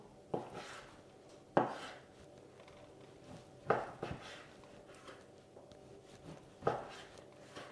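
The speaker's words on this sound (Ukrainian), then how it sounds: "Мені треба оце м'яско порізати." A knife slices meat into finger-thick pieces on a board, four or five distinct quiet cutting thuds spaced a second or two apart, close and isolated against faint background.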